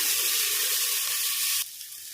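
Loud, steady sizzling of garlic and shallots frying in a hot pan with a little ghee, which drops abruptly quieter near the end.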